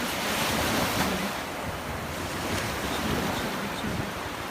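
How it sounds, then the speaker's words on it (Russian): Slightly rough Mediterranean Sea waves at Scoglitti wash in a steady roaring surf, with wind buffeting the microphone throughout. "Вот такое сегодня море. Немножечко волнуется."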